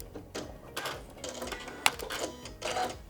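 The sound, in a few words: sewing machine doing a lock stitch on quilt facing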